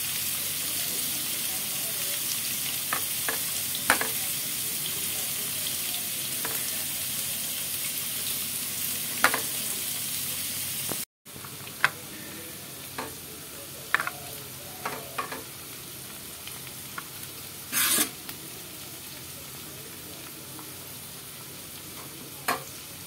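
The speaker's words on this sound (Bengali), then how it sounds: "এবার এগুলিকে আমি একটু ভেজে নিয়ে নেব।" Boiled cauliflower frying in a pan with a steady sizzle throughout, broken by intermittent scraping stirs and clinks of a utensil, close and moderately loud with no talking.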